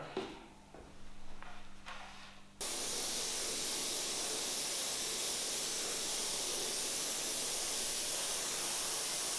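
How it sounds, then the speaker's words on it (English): Red spray paint hisses steadily from a can onto a Trek Madone bike frame, starting abruptly after a few seconds of quieter noise and continuing as a loud, even hiss to the end. "And then I can start spraying the red color."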